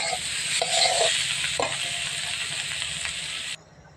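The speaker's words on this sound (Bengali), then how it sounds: "কাঁচা লঙ্কা চেরা, ভালো করে কষিয়ে নেব।" Slit green chillies fry in a pan with a dense, close sizzle and periodic stirring scrapes, then the sound cuts off abruptly near the end.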